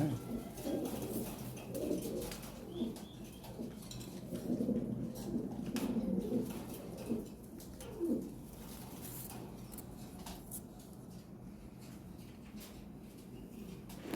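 A pair of large red Lahore siraji pigeons, kept for sale, give low, throaty coos in uneven bursts that fade toward the end, heard nearby over a steady background hum.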